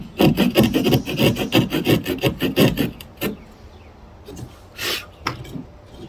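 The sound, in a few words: hand saw cutting a notch in wood for a bow drill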